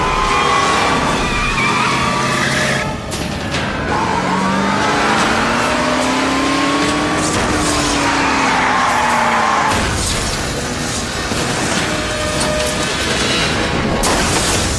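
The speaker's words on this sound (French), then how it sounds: "nous sommes suivis par 2 voitures ennemies" Several cars race after a truck convoy in a TV action chase, engines roaring and tires skidding loudly in long squealing slides, with crashing impacts mixed in, all close and continuous without speech.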